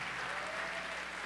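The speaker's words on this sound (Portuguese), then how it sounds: "Aplauda mais forte, plateia." An audience at a pastor's birthday celebration claps in steady, dense applause that stays loud and even throughout, with no pauses.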